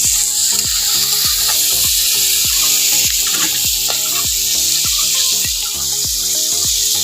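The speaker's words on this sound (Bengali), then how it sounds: "বন্ধুরা চিংড়ি মাছটাকে আমি বেশি ভাজবো না হালকা ভেজে নেব" Prawns fry lightly in hot oil with a steady, loud sizzle, while rhythmic clinking strikes, like a utensil tapping the pan, repeat roughly every half second throughout.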